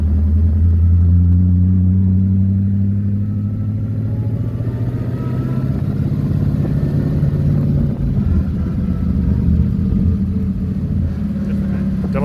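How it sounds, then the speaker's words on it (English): A 1932 Delage D8S engine drones low and steady through its exhaust, pitch shifting gently as it rolls along, with faint voices mixed in. "Hear the exhaust."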